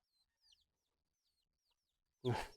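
A chicken clucking faintly in a few soft, brief calls, followed at the end by a sudden loud burst of voice.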